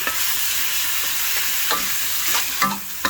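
Beef panang curry stir-fried in a hot pan, a steady broadband sizzle with scattered scraping clicks of a utensil stirring, close and continuous without talk.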